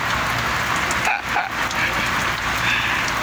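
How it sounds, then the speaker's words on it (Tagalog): Heavy rain pours down on a fishing outing in Zamboanga City: a loud, steady, unbroken hiss and roar close to the recorder, with a few faint higher sounds riding on top. "Lakas ng ulan no."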